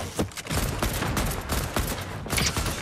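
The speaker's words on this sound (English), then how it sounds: "Oh, we're getting shot. Sniped, yep." Dense, continuous gunfire during a Fortnite match while the player is being shot at, with overlapping cracks and bursts forming a loud, unbroken barrage.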